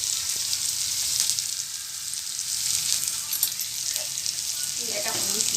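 Cumin seeds sizzle steadily in hot oil while cooking a raw mango curry, a close, continuous bright crackle that holds for several seconds with a few louder pops near the end.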